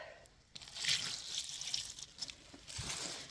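Water is poured from a cup into a tray of a Canadian nightcrawler worm bin, a soft splashing trickle that comes in uneven bursts, close and fairly quiet.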